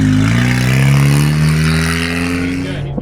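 A Mazda RX7 race car revs hard during a time attack session at Willow: a loud, close engine note that climbs and holds steady, then drops off sharply at the end.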